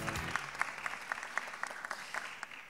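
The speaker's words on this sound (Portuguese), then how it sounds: "uma salva de palmas para a Luzia." A studio audience claps for a guest on a Brazilian program, quiet but distinct individual claps in a quick uneven rhythm, with a brief voice at the very start.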